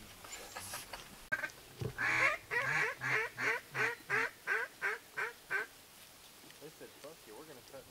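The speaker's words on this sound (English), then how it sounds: "Right now, the ducks aren't wanting to finish over these goose decoys." Ducks quack and geese honk over water during a hunt with goose decoys, a steady run of about a dozen evenly spaced honking calls at moderate distance, preceded by a sharp click and followed by fainter calls.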